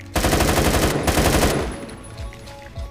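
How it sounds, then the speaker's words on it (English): Rapid shotgun blasts from a Minecraft gun mod, a dense burst of loud gunfire for about a second and a half, a short gap, then more, fading into quieter game noise and faint scattered shots. "Bro's shooting me with a shotgun from here."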